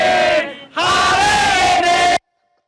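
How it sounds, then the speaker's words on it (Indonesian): Crowd of national football team supporters roaring and chanting at Gelora Bung Karno stadium, a loud distant mass of voices that dips briefly, surges back and then cuts off abruptly. "Sayup-sayup para penonton timnas kita, supporter kita"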